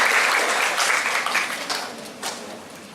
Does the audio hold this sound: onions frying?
no